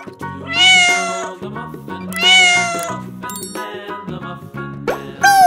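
A domestic cat meows several times, clear and close, its drawn-out cries rising and falling with short pauses between, alone with no talk.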